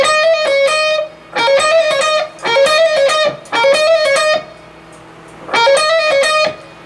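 Distorted electric guitar plays a rock riff with hammer-ons and pull-offs from a song, in four short phrases separated by brief gaps, loud and alone.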